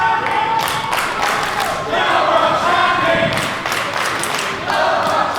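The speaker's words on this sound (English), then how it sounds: "Crowd going wild for Club Rock Shandy." A wrestling event crowd roaring and cheering for a tag team, a loud continuous swell of voices with thuds and some clapping, rising and falling in waves.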